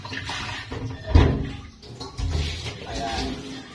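A Waters Bio Mineral Pot being rinsed with water, with splashing and sloshing that rises and falls in a couple of bursts, plus a clunk partway through.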